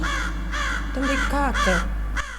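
A crow in a video game caws repeatedly in a steady series of harsh calls, close and clear, over a constant low hum.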